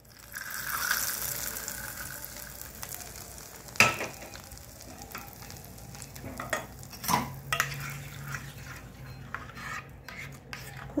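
Pieces of rohu fish frying in ghee are stirred and turned in the pan, a close sizzle broken by scraping and rasping strokes and a couple of sharp utensil knocks, with no one speaking.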